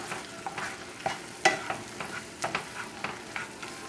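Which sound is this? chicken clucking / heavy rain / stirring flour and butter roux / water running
stirring flour and butter roux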